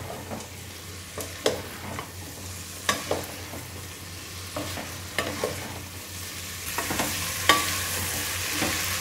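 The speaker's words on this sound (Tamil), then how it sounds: "வதங்கட்டும்." Jackfruit sautéing in a pan for biryani, a quiet background sizzle broken by scattered spatula scrapes and taps at an uneven pace.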